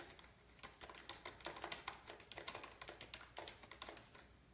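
Computer keyboard late at night, keys tapped in quick irregular bursts, quiet and close in a still room with no talking.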